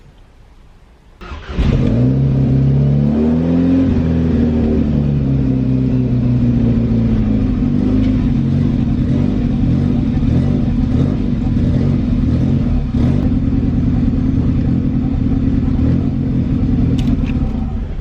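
A VW MK5 GTI engine fitted with a KO4 turbo cranks and catches, then idles loudly with a rough, uneven rumble from a badly misfiring cylinder 3, with a brief early rev before settling.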